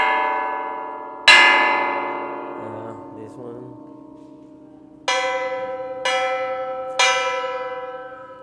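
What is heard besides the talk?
cut and welded metal sculpture pieces ringing like bells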